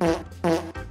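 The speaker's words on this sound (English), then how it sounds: "no sleep farting" A sleeping character in the Wobbly Life video game lets out a fart: two close, buzzy, tonal blasts followed by a shorter third puff, all within a second.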